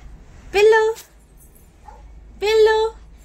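A puppy inside a family home gives two short, loud yelping barks about two seconds apart, with quiet room noise between them.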